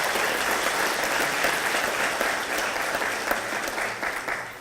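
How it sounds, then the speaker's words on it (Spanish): An audience at a national forum on gender and disaster risk management gives steady, dense applause for the co-director, filling the hall without pause. "Un aplauso para nuestra codirectora"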